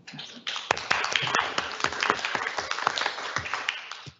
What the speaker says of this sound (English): Are we supposed to clap again?